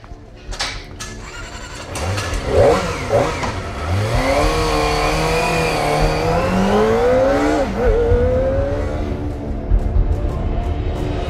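A vehicle engine revs during a test ride, close and loud, its pitch climbing and falling in repeated sweeps as the throttle opens and eases off, with a steady rumble underneath.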